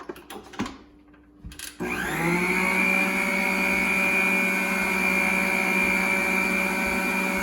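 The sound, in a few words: electric mixer mixing cake pop batter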